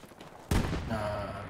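A single sharp burst of gunfire in the World War II shooter game Hell Let Loose, fairly loud and followed by a short fading echo, with no talk over it.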